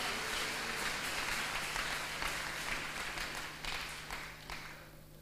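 A church congregation applauding during a sermon, a sustained, fairly close wash of clapping that slowly fades toward the end.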